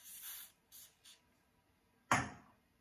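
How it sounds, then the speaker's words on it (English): Three short hissy bursts of hair spray in quick succession, then a louder, longer spritz that tapers off, close by in a quiet room. "I will spray a little bit of the spray."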